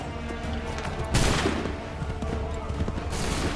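Musket volleys crackle in the Assassin's Creed 3 video game, a burst of massed gunfire rising from a busy battle din with a second volley near the end, moderately loud.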